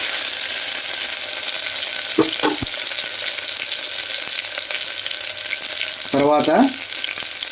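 Ginger garlic paste frying in a pan, a steady soft sizzle with a couple of brief stirring scrapes and a woman's short remark.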